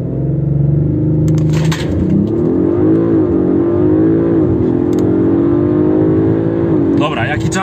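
Audi RS5 V6 TFSI accelerating hard from 0 to 100 km/h, a loud continuous engine roar rising in pitch through gear changes, with brief clicks or shift noises near the start and end.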